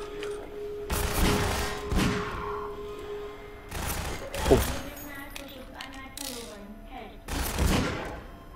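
Weapon fire in the video game Half-Life 2: three or four sharp, loud shots spaced a couple of seconds apart, each with a booming low tail, over a busy game soundscape with faint tonal effects between blasts.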